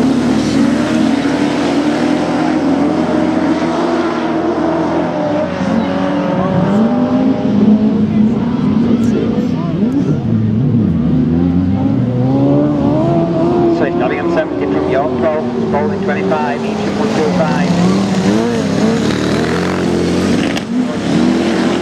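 Class 7 race cars roar past on a circuit during a heat, engines revving and shifting continuously at close range, with a commentator talking over the racing throughout.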